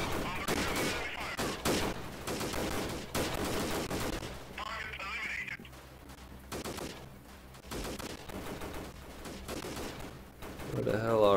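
Video-game gunfire in Freeman Guerrilla Warfare, a machine-gun squad firing bursts of rapid shots, mostly in the first few seconds and near the end, under frequent talking.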